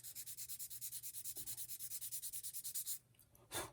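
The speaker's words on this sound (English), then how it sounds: "Another thing I want to do is sand it smooth" A small model building part for San Pedro de la Nave is sanded smooth by hand, a quick regular rasping of about twenty-five back-and-forth strokes, close and faint, then a brief pause and one last scrape.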